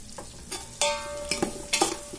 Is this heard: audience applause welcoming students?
no